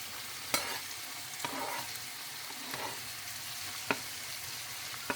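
Garlic and tomatoes sizzle in a pan for pea soup, a steady hiss broken by a few sharp clinks and scrapes of stirring.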